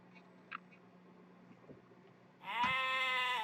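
A sheep in the Age of Empires video game gives a single drawn-out bleat near the end, loud and clear after a quiet stretch with a few faint game clicks.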